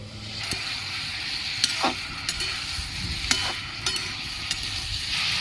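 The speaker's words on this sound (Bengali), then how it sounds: "ঢাকাটা খুলে একটু নেড়ে নিচ্ছি" Watermelon rind curry with salt and turmeric is stirred in a pan just after the lid comes off, giving a continuous close sizzle and a series of sharp clicks and scrapes from the spoon against the metal.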